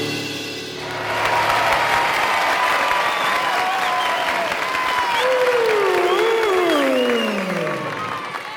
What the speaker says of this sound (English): when a lion sings, he gets much more applause.